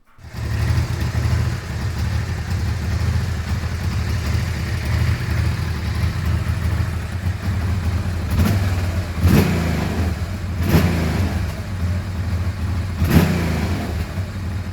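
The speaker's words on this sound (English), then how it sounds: "It actually fired up." Honda NTV 650 motorcycle engine fired up on a test battery after sitting unused, settling into a steady, loud running rumble with several short throttle blips near the end.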